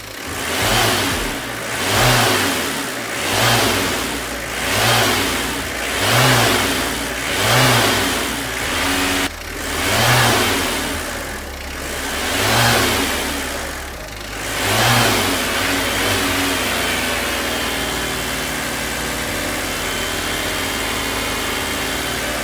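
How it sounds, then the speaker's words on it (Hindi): A car engine is revved repeatedly during a radiator coolant flush, about nine rhythmic rises and falls every couple of seconds, then settling into a steady idle, with no talking. "अब हमें गाड़ी को थोड़ा रेस करना है"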